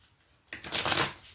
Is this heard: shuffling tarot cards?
yes